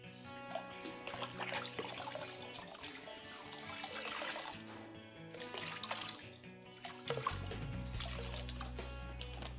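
Yeast feed for water fleas is poured into water, a continuous trickling splash that carries on for several seconds before a heavier, steadier gush near the end.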